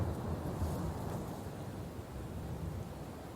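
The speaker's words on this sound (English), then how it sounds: "thunder and lightning." A thunder and lightning storm at sea sends a continuous low, rolling rumble of thunder under a steady hiss of rain and wind, loud and unbroken throughout.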